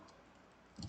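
A computer mouse left-clicks during work in 3D apparel CAD software: a quiet room, then a quick pair of sharp, close clicks right at the end.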